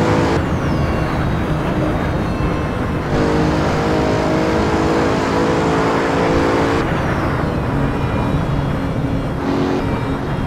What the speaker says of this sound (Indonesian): Wah, kenceng ini mobil, beneran stabil